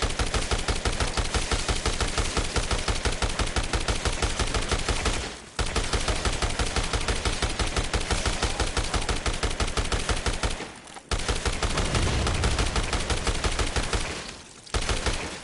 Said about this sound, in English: I really need to stop being lazy with the shooting and just actually aim and shoot properly